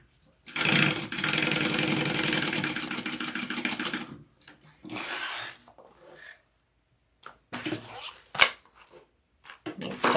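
A sewing machine stitches mesh to a fabric lining for a cookie carrier, a rapid whirring run of needle strokes followed by shorter bursts and pauses, with a voice speaking in the gaps.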